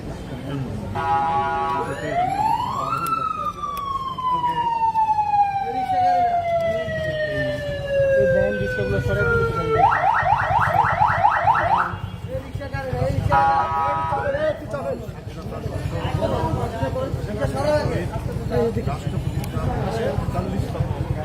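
An ambulance siren rises and sweeps loudly over a crowd at an outdoor political commemoration, then shifts to a rapid warbling yelp before sweeping again, with background voices and crowd noise throughout.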